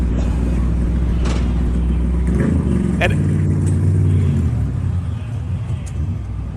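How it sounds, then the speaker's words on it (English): Engine of the number 77 NASCAR race car, a loud continuous rumbling roar that shifts in pitch partway through, heard over a voice talking. "There's nothing quite like the sound of that engine at NASCAR."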